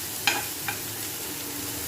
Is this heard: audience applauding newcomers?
no